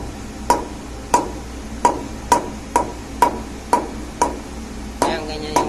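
Nine evenly spaced, ringing strikes of a mallet on a hard object, each leaving a brief metallic ping, close and fairly loud with a faint bit of background noise between hits.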